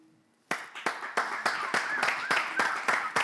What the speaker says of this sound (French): On va applaudir jusqu'à ce qu'elle ne retourne à sa place